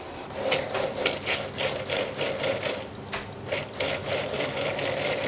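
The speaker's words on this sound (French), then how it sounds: "Et on va mixer le tout en purée." A blender pureeing cooked lentils with a splash of water, whirring loudly and close in a rhythmic, pulsing grind as the blade churns through the thick mixture.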